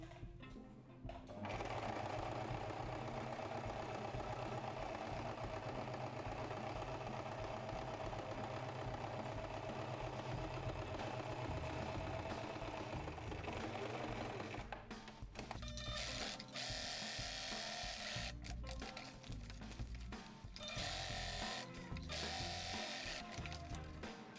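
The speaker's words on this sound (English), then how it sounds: "fold your seams to one side and sew on top" A sewing machine runs steadily for a long stretch, stitching a reinforcement seam over fabric folded to one side, with a brief pause and a few short stops and restarts near the end.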